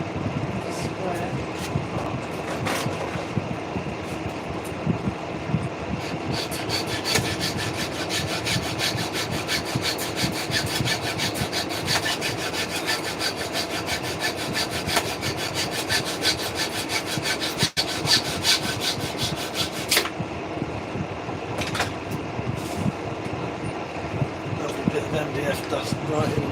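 MDF board is sawn by hand in a workshop, a continuous close rasping back-and-forth of saw strokes lasting throughout, with people talking now and then over it.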